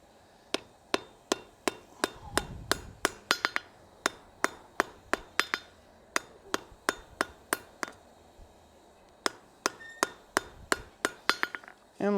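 A blacksmith's hammer strikes hot metal on an anvil in a long series of sharp, ringing blows, mostly evenly spaced with a few quick doubled hits and short pauses, close and clear.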